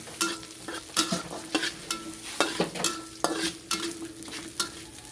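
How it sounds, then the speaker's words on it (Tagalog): Food being stirred in a pan, with a spoon scraping and clacking against the metal in irregular bursts over a continuous background sizzle, close and fairly loud, no voices. "Ayan, haluin natin ito."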